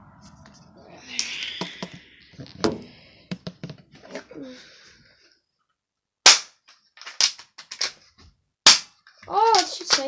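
Airsoft G.053 pistol shooting plastic pellets indoors near an open window: a few sharp snapping shots spaced apart, close and loud, with handling clicks and rustling between them.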